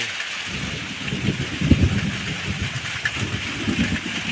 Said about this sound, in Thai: เสียงฟ้า ฟ้าร้อง พร้อมกับฝนตกครับ